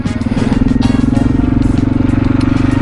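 A Husqvarna 701 single-cylinder motorcycle held in second gear during a wheelie, its engine droning loud and close with a steady, rapidly pulsing thump throughout.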